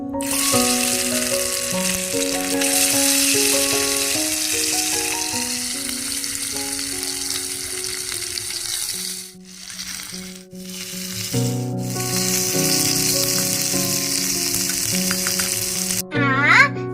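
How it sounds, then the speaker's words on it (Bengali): Fish frying in hot oil in a pan hisses and sizzles continuously, close up, under steady background music, with a brief pause partway through and a few sharper crackles. "আমার তেলটা কিন্তু গরম হয়ে গেছে, দেখছিস? এবার মাছগুলো ছেড়ে দেবো।"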